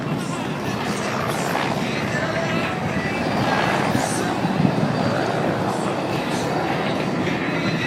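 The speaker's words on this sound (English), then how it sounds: "Watch them as they set up for the next high-speed pass. Yeah. It's gonna be so loud." An F-18 fighter jet makes a high-speed pass at the 2011 Jones Beach air show, a broad, continuous roar that swells slightly midway, with crowd voices mixed underneath.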